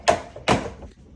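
Plastic clips on a Samsung refrigerator door hinge snap into place: two sharp, close clicks about half a second apart, with no talking.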